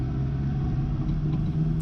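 Fiat 500 Abarth driving on the road during a suspension clunk test, a steady low engine rumble and road noise from inside the car, continuous and close.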